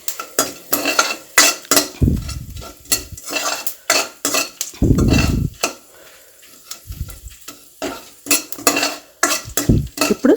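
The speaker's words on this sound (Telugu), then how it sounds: "ఇప్పుడు కొంచెం ఇంగువ కూడా వేసుకుని ఫ్రై చేసుకుని స్టవ్ ఆఫ్ చేసుకోవాలి." A spoon scrapes and clanks repeatedly against a pan while a tempering with asafoetida for coriander chutney fries, with sharp metallic strikes in an irregular rhythm and short bursts of close sizzling between them.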